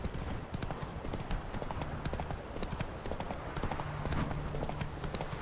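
A horse gallops across terrain in the video game The Witcher 3, with rapid, steady clip-clop hoofbeats continuing throughout at moderate loudness.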